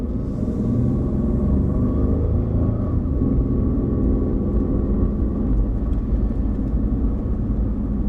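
Steady low rumble of car engines and tires as vehicles pull out through a parking lot gate, a continuous near drone with no distinct pauses.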